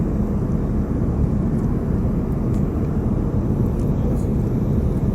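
Steady, loud airplane cabin drone on a flight from Africa to Bangalore, a constant low roar of engine and air noise with no pauses.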